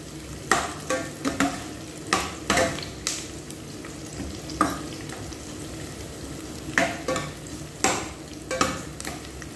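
Onions and garlic frying in oil, a continuous soft sizzle broken by repeated sharp stirring scrapes and clinks of a utensil against the pan, close and without speech.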